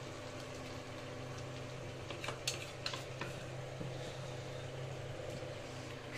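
Mustard-poppy paste spooned into a hot pan, soft low sizzling under a faint hum with a few light spoon clicks and scrapes in the middle; no speech.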